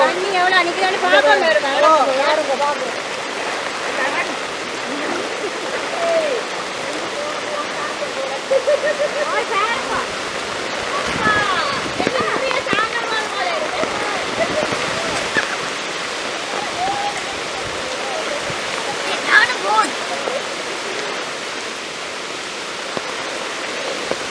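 Steady rushing floodwater flows continuously over a road in a Jaffna village, Sri Lanka, during heavy cyclone rains, a broad wash of turbulent noise with a few voices and background sounds faintly mixed in.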